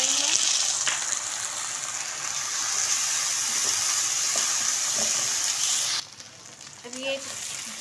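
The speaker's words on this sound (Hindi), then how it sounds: "ये मैं इसमें 2 टेबल स्पून अदरक लहसुन का पेस्ट ऐड कर रही हूँ।" Ginger garlic paste fries with golden brown onions for an aloo keema, a loud, close, steady sizzle that drops off abruptly near the end, followed by faint stirring.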